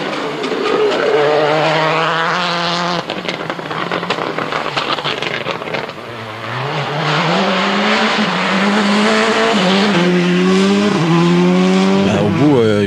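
Sébastien Loeb's rally car at speed during Rallye d'Allemagne 2006, engine revving up and down through gear changes, loud and close over a continuous run, with a voice talking over it.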